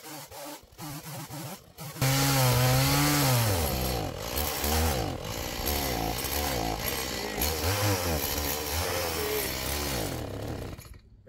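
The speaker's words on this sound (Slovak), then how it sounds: "Na jednu palivovú nádrž píla MS-180 dokázala spraviť 50 rezov tvrdého palivového dreva a rôznych priemerov." Stihl MS 180 chainsaw cutting hard firewood, the engine jumping to a loud, steady high-revving whine after a brief idle, pitch wavering as the chain bites through the wood, close and continuous.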